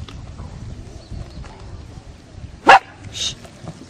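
A single sharp dog bark cuts through quiet background murmuring at a horse show, followed by a softer yelp a moment later.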